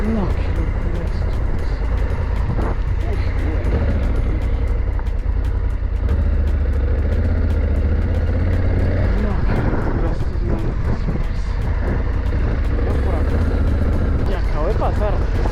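Motorcycle riding along a dirt road through countryside, with a steady loud engine and wind rumble running throughout and a voice talking over it.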